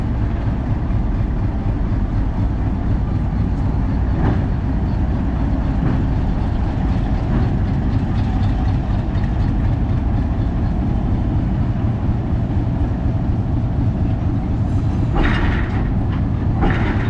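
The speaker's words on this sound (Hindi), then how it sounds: "PH20 पार्क्ड हो चुका है टर्न टेबल के ऊपर, और अब इसका रुख तब्दील किया जाएगा" Locomotive PH20 on a disused railway turntable gives a loud, continuous low mechanical rumble and clanking throughout, close up, with occasional metallic creaks and knocks as it is turned.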